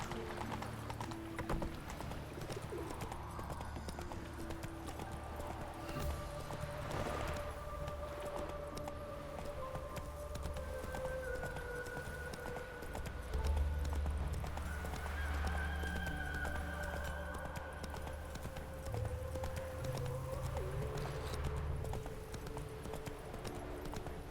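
In The Witcher 3, Roach the horse trots and gallops with steady hoofbeats under a soft musical backdrop, with a horse's whinny rising briefly partway through.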